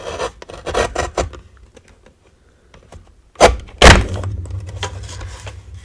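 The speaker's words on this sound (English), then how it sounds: "So I've got the Tiny Tonic trimmer here." A Tiny Tonic paper trimmer slices through stamped paper: an early run of soft rasping strokes, a quiet pause, then two loud, close cutting swipes with a brief rustle after. No one speaks.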